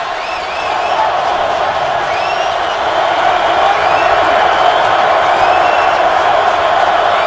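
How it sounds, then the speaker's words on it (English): A stadium crowd at a Ravens football game cheers in a dense, continuous roar with scattered whoops and whistles, swelling slightly as it goes on. "The crowd is into it."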